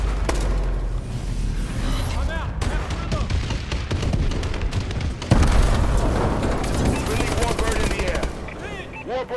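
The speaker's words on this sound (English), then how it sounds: "Enemy bombing run clearing the way." Bombing run in Call of Duty: Advanced Warfare, rapid rumbling blasts and crackling gunfire piling up into a dense barrage, with a heavier boom near the middle and sustained loud explosions after.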